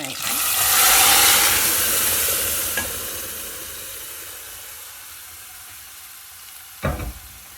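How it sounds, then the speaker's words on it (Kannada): A loud burst of sizzling as radish sambar hits a hot tempering pan, fading into a steady frying hiss, with a sharp metallic clank near the end. "ಇವಾಗ ಸಾಂಬಾರನ್ನ ಹಾಕ್ತಿದ್ದೀನಿ ಒಗ್ಗರಣೆ"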